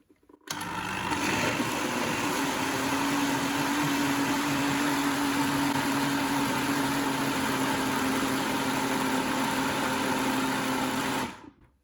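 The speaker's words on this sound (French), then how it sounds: "je vais vous montrer comment ça va être pendant qu'on mixe les tout ici" Blender motor running steadily for about eleven seconds while mixing a thick mango dessert mixture with ladyfinger biscuits, a loud continuous whirring hum that starts abruptly and stops at the end, with no talking.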